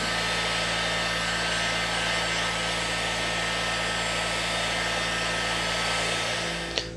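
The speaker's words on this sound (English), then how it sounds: "I'm going to use a hot air gun to melt it" Hot air gun blowing a steady, loud hiss and whoosh of air, melting wax into a turned sycamore wood platter, continuous and close with no talk until it cuts off.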